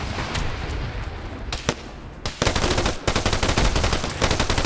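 Artillery and small-arms fire in an Arma military game during a Gruppe Adler PvP match, with a few sharp isolated shots first, then a dense, loud, rapid volley of automatic gunfire.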